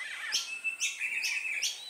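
Birds call in an aviary: a butcherbird, a cuckoo-shrike and a peewee, several bright repeated chirps and whistles, close and clear with no talking.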